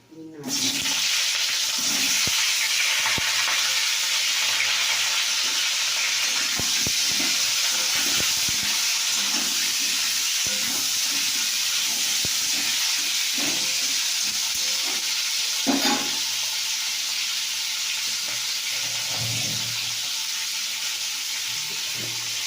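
Cut potatoes fry in a pan with a steady, dense sizzle and hiss that runs unbroken, with occasional stirring scrapes and faint kitchen movement underneath.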